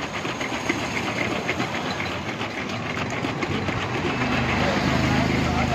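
A bottle of Vestige Neno energizer is shaken hard and steadily for several seconds, giving a continuous dense rattling and sloshing noise, close and fairly loud, with no talking over it.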